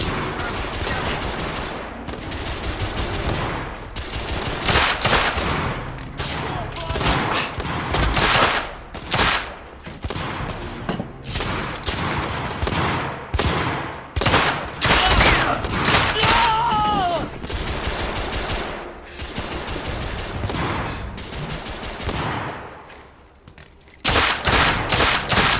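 Dense gunfire in the PS4 video game The Order: 1886, rapid automatic bursts and single shots crackling almost nonstop, loud and close, with brief lulls and a final volley.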